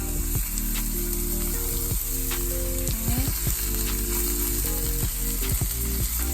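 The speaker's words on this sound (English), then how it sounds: "let's go ahead and place our scallops in the pan" Seasoned sea scallops sear in a hot pan with a bright, continuous sizzle, while clanking pan and utensil sounds break in at intervals, all close and moderately loud.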